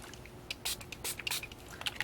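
A spray bottle mists water onto a watercolor painting in several quick, close, hissing bursts of varying length, quiet and separated by short pauses.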